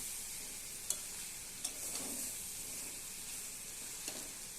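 Jackfruit and prawns sautéed in a pan for a Bengali dish, a steady soft sizzle with a few sharp spatula scrapes and taps against the pan.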